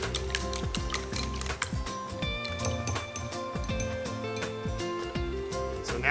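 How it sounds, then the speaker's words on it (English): A whisk beats four freshly cracked eggs into an egg wash in a bowl, giving steady, rapid metallic clicking and rattling that runs close and unbroken through the whole stretch. "I'm gonna use my whisk. Go ahead and get that mixed together."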